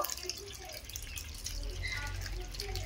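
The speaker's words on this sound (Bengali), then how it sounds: "এরপর আমি তরমুজের রসগুলো এই ছাঁকনির মধ্যে ছেঁকে নেব।" Watermelon juice strains through a kitchen strainer, dripping and trickling steadily up close, with a soft liquid patter growing slightly fuller toward the end.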